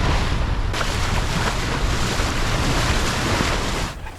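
A sailboat running downwind at about 18 knots under full sails, with steady loud rushing waves and wind buffeting the microphone throughout, no voices.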